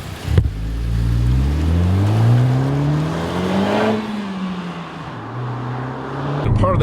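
Engine of a 2017 Honda Civic Type R revving up through the range to the limiter, a loud rising tone that peaks and then drops back to a lower steady drone, heard up close with no talking.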